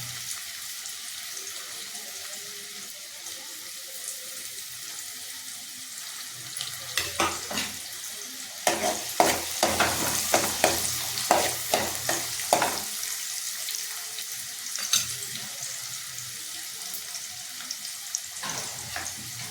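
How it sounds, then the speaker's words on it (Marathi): Onion and garlic frying in a pan for masoor dal amti: a steady low sizzle, with a cluster of sharp crackles and scraping stirs in the middle and a few more near the end. "कांदा टाकून झालं की लसूण टाकायचं आहे."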